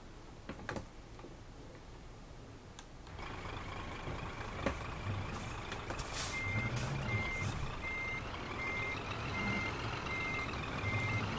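A truck reversing in the video game Euro Truck Simulator, with a steady series of evenly spaced reversing beeps over a low engine rumble, starting after a few seconds and continuing to the end.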